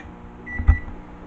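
A low, steady microwave oven hum with a faint tonal whine, swelling briefly to a soft thump in the middle.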